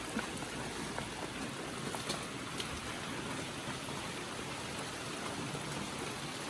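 Rain falls in a steady, even hiss that carries on without a break, fairly faint and with no voices.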